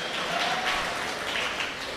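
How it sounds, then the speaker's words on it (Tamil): Applause from an audience at a Tamil comedy debate stage show, a steady broadband clatter of many clapping hands filling the whole moment, fairly close and even in level. "இதுவும் புரிஞ்சால் கைத்தட்டுங்க"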